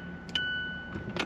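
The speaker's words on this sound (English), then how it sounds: "We're going to turn the ignition on." A key turns in the ignition of a Mazda car, giving a short metallic jingle and click followed by a steady electronic tone, close and alone.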